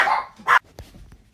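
Two small puppies, about ten and fifteen pounds, let out a couple of sharp, loud barks close by, followed by a fainter yip and a quiet pause.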